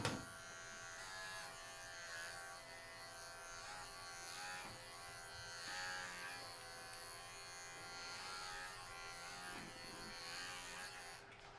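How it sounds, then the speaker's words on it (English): Electric clippers buzz steadily and close up as they shave a small patch of fur on a dog's belly during a veterinary urine collection, running continuously without pause. "I'm going to shave a little spot on his belly."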